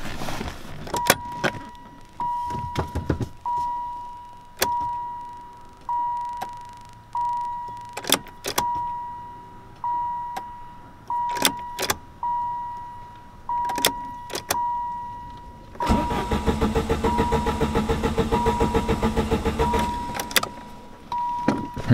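A key is turned in a Chrysler TC 16v under restoration, giving a string of sharp clicks against a steady warning chime, then a sustained buzzing whir of a motor trying to turn near the end.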